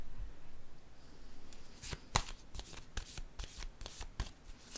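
A deck of playing cards being shuffled, a rapid run of crisp riffling flicks and snaps that starts softly and grows busier, close and alone with no talking.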